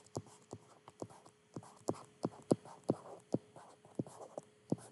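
Maths steps are written out by hand, a pen tapping and scratching on paper in about a dozen quick, evenly spaced strokes, close and quiet with no talk.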